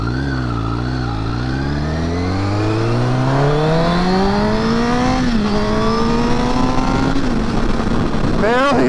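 A Honda CBR motorcycle's stock exhaust, fitted with a servo eliminator, revs up through rising gears, the engine note climbing steadily and loud and close, briefly easing between shifts.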